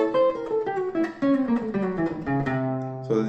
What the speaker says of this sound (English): So that's the sound of the diminished scale.